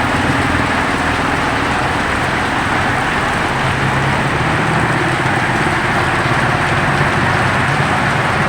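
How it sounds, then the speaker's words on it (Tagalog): Heavy, flood-causing rain pours down in Bulan, Sorsogon, Philippines, a loud, steady, close roar of water hitting surfaces that never lets up, with no voices. "napakalakas ng ulan dito ngayon sa Bulan, Sorsogon"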